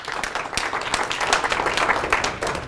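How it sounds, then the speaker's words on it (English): A room full of people claps loudly for Conestoga and other colleges during a leadership training talk, dense overlapping hand claps with sharp individual strikes standing out, close and continuous. "Give Conestoga and our great colleges a great round of applause"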